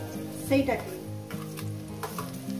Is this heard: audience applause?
no